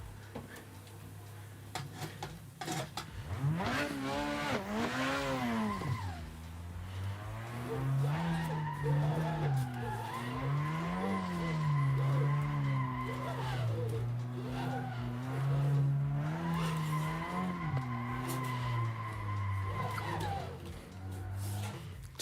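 Car drifting during driving practice, with long rising and falling engine revs and sustained tire squeal through several slides, fairly close and without talk.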